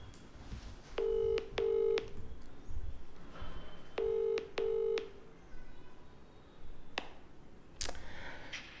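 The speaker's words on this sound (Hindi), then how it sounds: "उनको फोन लगाते हैं" Two bursts of phone keypad dialing tones, each a quick pair of beeps, separated by a pause, with faint background noise between.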